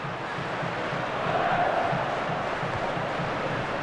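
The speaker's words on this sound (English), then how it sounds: "and the crowd really enjoying it." In a FIFA 14 football match, a simulated stadium crowd roars and cheers as a steady, dense wash of sound with no individual voices standing out.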